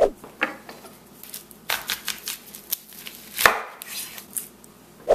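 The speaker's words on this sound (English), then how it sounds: "the first thing that we want to do is we want to chop our onion." An onion is chopped with a knife on a board for homemade chili, a rapid, uneven run of sharp close knife taps and scrapes with no talking.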